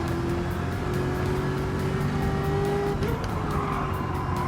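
A high-horsepower race car in Gran Turismo 7 accelerates hard with a loud, continuous engine roar whose pitch climbs and shifts through a gear change, while tires squeal faintly underneath.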